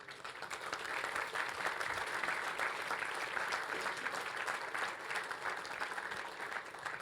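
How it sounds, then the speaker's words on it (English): A large conference audience at the Chaos Communication Congress applauds for about seven seconds, a dense, even wash of clapping from a crowd in a hall. "Please give them an applause."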